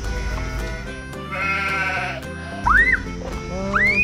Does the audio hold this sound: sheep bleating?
yes